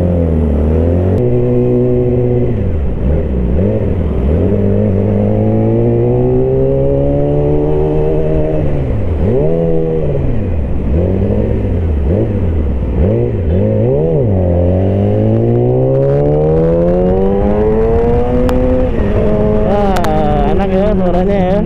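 A Yamaha R6 sport motorcycle engine roars loudly and continuously while being ridden, its pitch repeatedly rising and falling through revs and gear changes, climbing steadily toward the end.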